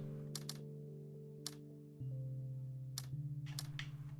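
Brief clustered clicks of typing on a computer keyboard inside the puzzle game Taiji, a few short bursts spaced over several seconds, soft against steady droning music tones.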